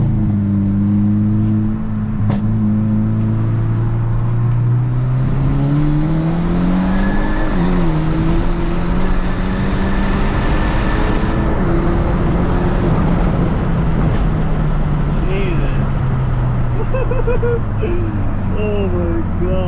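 A car fitted with a 54mm hybrid turbo accelerates hard, engine pitch climbing through gear changes and a loud close roar over about twenty seconds, with excited voices talking over it.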